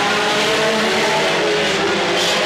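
Mini stock race cars roar past at Petaluma Speedway, a loud, dense, continuous engine drone of several cars racing together with no break.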